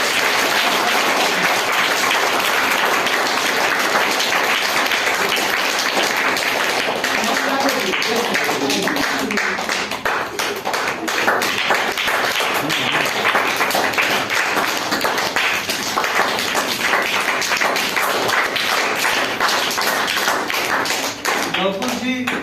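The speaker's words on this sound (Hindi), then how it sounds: "तो जोरदार तालियां बजाइए।" An audience at a school Saraswati Puja celebration claps for the first prize winner, a loud, dense, continuous roar of applause lasting over twenty seconds with voices mixed in.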